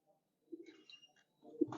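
Domestic pigeons of a Yemeni breed in a fancier's loft give soft, short cooing calls, faint and close, in two brief bursts with a pause between them.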